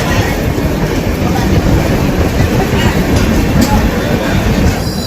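The 12838 Puri–Howrah Superfast Express runs near Kharagpur Junction, a loud, continuous rumble of wheels and carriage rattle heard from on board with a faint clickety-clack, steady throughout.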